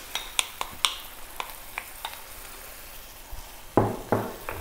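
Canned tomatoes tipped into a hot pan for a veggie cauliflower and broccoli pasta bake sauce, with sharp spoon taps and clinks against the pan, then a louder splash and scrape near the end.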